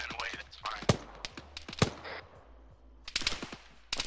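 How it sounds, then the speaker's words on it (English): Bursts of automatic gunfire from the military video game Arma 3 crack out in rapid clusters, loud and sharp, with short pauses between volleys and faint voices underneath. "Come on, red team, continue shooting and walk."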